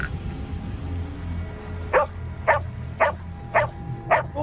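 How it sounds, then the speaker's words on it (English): A dog in the woods barks in distress, five sharp evenly spaced barks at moderate distance over a low steady background rumble. "his dog, which was normally pretty well behaved, started going crazy, barking, acting as if it was in distress"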